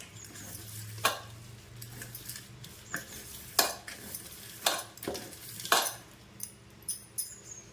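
A spoon scrapes and clinks through ragi vermicelli tossed with sugar and oil in a pan, giving irregular sharp metallic taps and scrapes every second or so against a quiet background.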